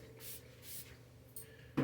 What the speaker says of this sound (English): So I'm just spraying the leave-in.